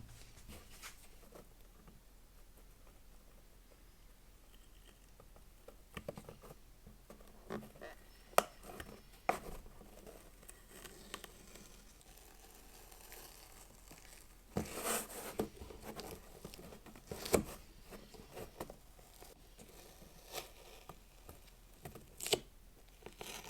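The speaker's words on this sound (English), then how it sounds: "let's get to peeling this off" Masking tape peeled off the painted Proline Cliffhanger body of a small SCX24 RC car: faint, close crinkling and tearing rips, with scattered sharp snaps and pulls spread irregularly over a quiet room.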